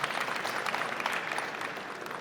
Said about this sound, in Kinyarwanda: reka tubanze tugukomera amashyi menshi